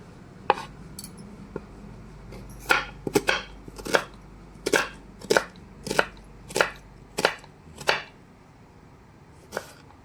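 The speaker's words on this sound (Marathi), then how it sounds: "अंडा कढीसाठी बारीक कांदा कापून घ्यायची." A knife finely chops onion for egg curry, giving about a dozen sharp, close board taps, scattered at first and then in a steady rhythm, with no talking.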